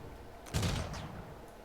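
A single loud burst of video game gunfire hits sharply and rings out briefly before trailing off into low ambient background.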